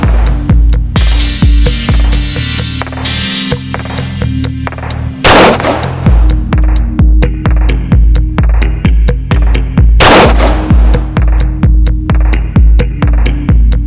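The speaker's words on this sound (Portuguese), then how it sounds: "Agora o segundo disparo" A 12-gauge shotgun fires a slug from ten meters into a pig's skull. Two sharp, loud blasts ring out several seconds apart over a steady, rhythmic mechanical pulsing.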